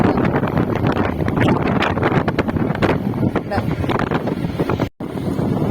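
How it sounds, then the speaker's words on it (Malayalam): Strong evening wind buffets the microphone near a bridge with a constant roaring rumble, briefly cutting out near the end. "ആയി നല്ല കാറ്റ് സന്ധ്യയായിട്ട്"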